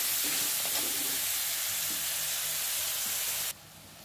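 Ginger garlic paste fries in a pan with a dense, steady sizzle and hiss, close and loud, fading sharply near the end.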